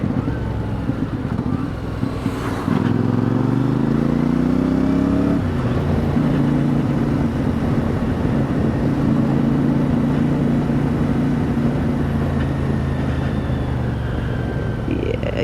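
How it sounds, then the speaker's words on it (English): CFMoto 450MT engine rumbling at 32 mph in 6th gear, a low steady drone that swells as it accelerates, then settles into a constant hum under wind noise. "We are rumbling along at 32 miles an hour in 6th, and it will still pick up quite happily."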